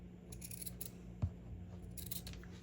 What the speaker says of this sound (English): I won't go so close up to the edge of my felt so I can cut the whole thing properly